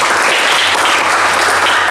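Steady, dense applause fills a classroom session on motorcycle fuel-injection faults, a continuous even wash of many hands clapping at full loudness with no break.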